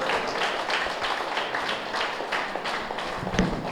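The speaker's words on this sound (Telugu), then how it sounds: "మరి లక్ష్మి గారికి ఒకసారి గట్టిగా చప్పట్లు కొడదాం" An audience at a Women's Day event in Gudiwada claps together in sustained, even applause, dense and moderately loud from start to finish.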